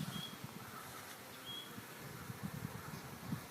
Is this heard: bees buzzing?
yes